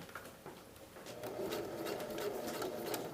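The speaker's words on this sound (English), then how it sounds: "so you get a couple stitches in, straighten it out, get it flat" Sewing machine running a double needle to stitch elastic on a swimsuit, a quiet steady rapid mechanical whir with a slight rise in pace partway through, close and without talk.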